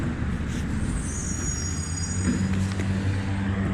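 A garbage truck's engine rumbles steadily and loudly close by, with a faint high hiss of brakes, no voices.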